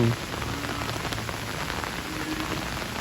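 Steady light rain falls on a banana plantation, a continuous even patter of drops on surfaces with no voices, close and moderately loud throughout.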